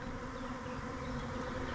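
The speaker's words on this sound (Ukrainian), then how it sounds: "А можливо, чужий рій." A swarm of honeybees on the move, a dense, continuous close buzzing drone that stays steady and fairly loud throughout the brief moment.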